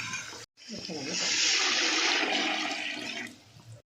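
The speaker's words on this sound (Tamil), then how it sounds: "இப்போ எல்லாமே தண்ணி ஊற்றிக்கலாம்" Water gushes in a steady, loud stream into a cooking pot of sautéed onions for a few seconds, rushing and splashing close by before cutting off.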